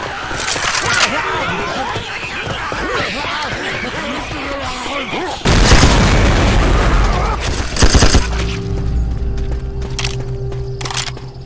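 A grenade goes off in Left 4 Dead 2 amid gunfire, one loud boom landing partway through with cracking shots and rumbling game noise around it.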